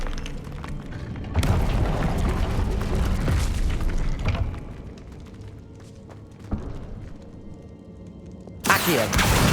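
A Confringo fire spell explodes during combat in Hogwarts Legacy with loud booming blasts and a rumbling tail, then quieter scuffling, and ends with another sharp burst.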